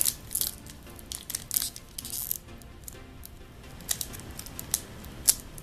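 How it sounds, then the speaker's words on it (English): Crinkly foil wrapper of a Pokémon trading card booster pack tearing and crackling up close, in short bursts with small pauses between rips, fairly quiet overall. "Hopefully the pack opening noise isn't too loud in the recording."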